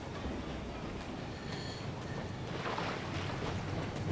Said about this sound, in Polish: I słychać pociąg.